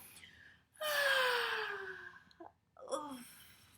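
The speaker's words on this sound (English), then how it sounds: "Let's all do a nice yawn together." A storyteller performs a drawn-out, breathy yawn that slides downward in pitch, followed by a shorter yawning sigh, heard close and fairly soft.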